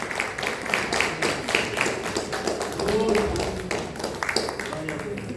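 A church congregation claps hands in praise during a cold-weather prayer service, a steady rhythmic patter of many hands under ongoing speech, moderately loud and continuous.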